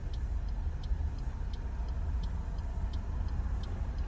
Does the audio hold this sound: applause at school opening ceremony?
no